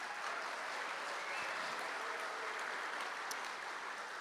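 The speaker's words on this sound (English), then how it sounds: "Round of applause." Soft, distant applause from a crowd continues evenly throughout, heard from far back in a large room.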